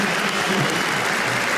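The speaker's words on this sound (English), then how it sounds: "he's getting applauded all the way off the ground here" A crowd at an Ashes Test cricket match applauds a departing batsman, a dense, sustained wash of clapping filling the stadium at steady loudness for the whole moment.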